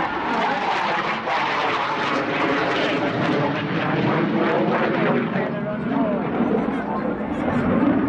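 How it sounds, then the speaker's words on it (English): Tornado jet aircraft performing a roll under turn at an air display, a loud continuous jet roar rising and shifting in pitch as it passes, heard under a talking voice. "Here it comes a roll under turn, in which we can appreciate the high roll rate of the Tornado"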